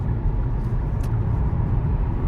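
A car picks up speed on a dual carriageway at Steeton, its engine and road rumble forming a steady, close low drone throughout, with no voices.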